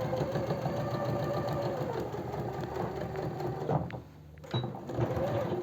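A sewing machine stitches to the end of a seam on a simple four-panel elastic-waist skirt, a steady rapid mechanical whir that pauses briefly near the end, then resumes with a short burst.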